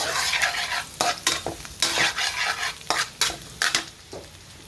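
Vegetables being sautéed in butter in a pan, a soft sizzle broken by repeated rhythmic scrapes and knocks of a spoon or spatula stirring against the pan, with no voices.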